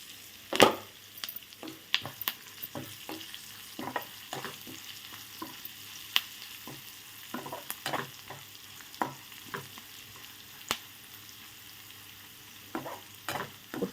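Curry leaves and roasted gram dropped into hot oil in a pan, a soft continuous sizzle broken by frequent sharp spatters and stirring clicks, no speech.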